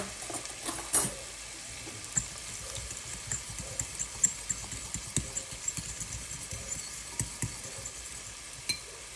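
Sweet and spicy pork taco filling is stirred in a pan with soft, irregular scrapes and clinks over a low steady sizzle, quiet and close, without talk.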